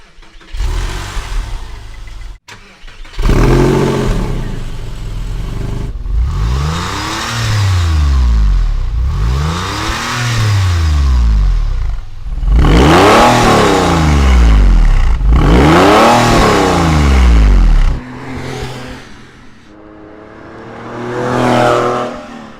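A Porsche 911 with an aftermarket exhaust revs repeatedly in loud, rising and falling bursts, each rev climbing sharply then dropping, with a deep throaty exhaust note.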